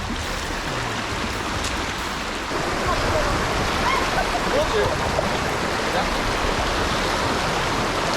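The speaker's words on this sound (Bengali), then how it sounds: "প্রচুর স্রোত মানে যে কোনো সময় টেনে নিয়ে যেতে পারে আমাদেরকে" A strong stream current rushes through Toain canal at Alikadam, Bandarban, a loud, continuous close-up roar of churning water with no break.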